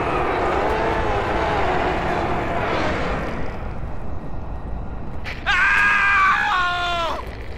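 A character in the Halo 3 video game screams, a loud strained harmonic cry near the end, preceded by dense game noise and battle sounds with voices throughout.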